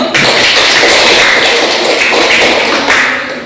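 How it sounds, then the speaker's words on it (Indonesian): Loud classroom applause fills the room as a dense, steady patter of many hands clapping for about three seconds. "Beri aplaus dulu."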